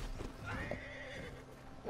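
A horse in Red Dead Redemption 2 gives a fairly close, shrill whinny with a rising and falling neigh, followed by a few clip-clop hoof sounds and a second short neigh at the end.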